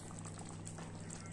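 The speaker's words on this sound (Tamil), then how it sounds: "இது ஒரு 5 நிமிஷம் நல்லா கொதிக்கட்டும்" Meal maker keema gravy boiling in a pan on a gas stove, a steady close bubbling and simmering with a low continuous hum underneath, no voices.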